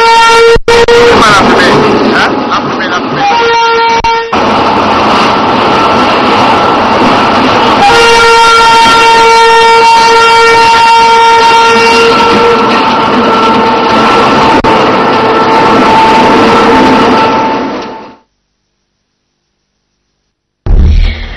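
A returning passenger train in Togo sounds its deafening horn, a long, loud, sustained blast with steady tones that cuts out after several seconds, heard close and alone.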